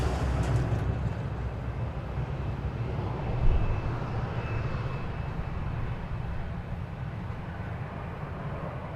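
An American Airlines Boeing 777 lands at DFW Airport, its engines a steady low roar heard from a distance outdoors, with a faint whine and wind noise over the rumble.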